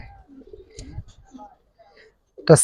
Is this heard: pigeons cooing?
yes